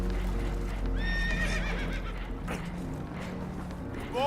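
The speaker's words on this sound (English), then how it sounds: "Horses are spooked, and we're taking on water." Spooked horses in Red Dead Redemption 2 on a damaged boat, a loud shrill neigh with quavering whinny rising over a low rumbling background, followed by clopping hoof sounds and a second whinny beginning at the end.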